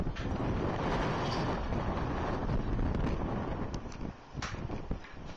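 Strong wind roars and buffets the microphone continuously, a dense, rushing noise with no voices.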